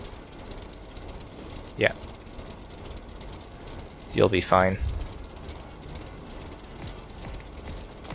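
A large ship powerplant engine in a video game drones steadily with a low rumbling hum throughout, while someone briefly speaks over it.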